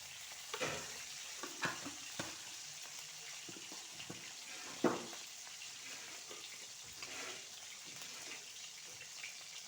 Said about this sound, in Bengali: হলুদ দিয়ে ভালো করে ভেজে নিব আলুটা